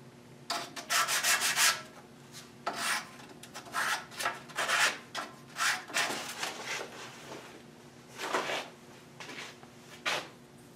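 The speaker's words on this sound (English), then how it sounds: "So that got rid of the burr, just that little bit of sanding." A wedge's burr is sanded off with short rubbing strokes, a series of scratchy bursts in an irregular rhythm with brief pauses between them, close and moderately loud in a quiet shop.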